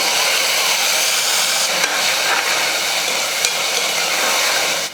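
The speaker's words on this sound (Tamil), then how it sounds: "தக்காளி வந்து நல்லா வதங்கி கட்டியாக வரணும் அப்போ தான் அந்த தக்காளியோட பச்சை வாசனை போய் நல்லாயிருக்கும்" Freshly ground tomato paste from three large tomatoes sizzles in a pan while being stirred for tomato rice, a loud continuous hiss and crackle with faint scraping strokes and no voices.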